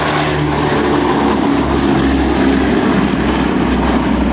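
Steady, loud droning roar of a B-17 Flying Fortress's propeller engines, with deep rumbling tones held throughout, close and continuous.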